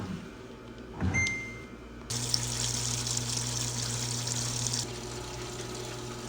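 Washing machine starting a cycle and filling with water: a click and brief motor whir, then a steady rushing inflow of water with a low pump hum, close and continuous.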